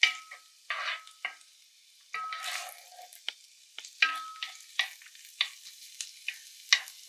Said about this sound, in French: Et on laisse les échalotes cuire un tout petit peu. Vous voyez, ça commence à cuire.